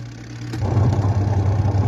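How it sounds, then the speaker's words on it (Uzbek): Washing machine motor spinning with its impeller not turning, a steady low mechanical hum and whir close by that grows slightly louder after a moment. "Motori aylanaveradi, lekin mana parraga aylanmaydi, kir solsalar aylanmaydi."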